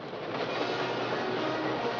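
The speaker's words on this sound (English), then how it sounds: "Boss, it is a train." A train rolls over a river trestle, a dense, continuous roar of wheels and rail clatter that stays loud and even for the whole stretch, with no voices.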